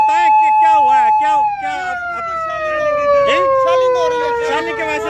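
An ambulance siren wails loud and close amid clashes and shelling in Azad Kashmir, its tone sliding steadily downward while voices break in briefly.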